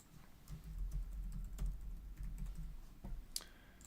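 Quiet, close typing on a computer keyboard, a quick run of soft key taps with a few sharper clicks, steady for several seconds with no voice.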